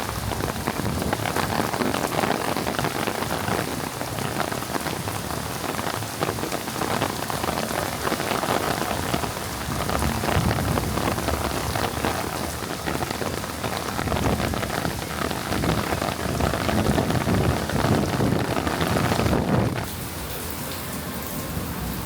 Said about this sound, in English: We're gonna try to get some cool clips of it raining so you guys can kind of get the vibe.